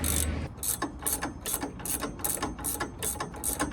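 A ratchet wrench tightens a suspension bolt on a 2001 Ford F150, a steady run of about eight rapid clicking strokes close up at a regular rhythm, with no talking.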